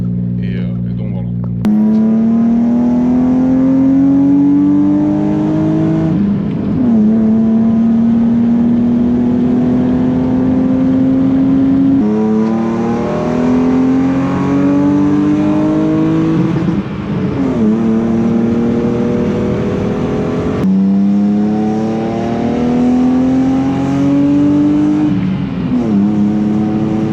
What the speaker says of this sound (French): le bruit, la rage donc, de ce 6 cylindres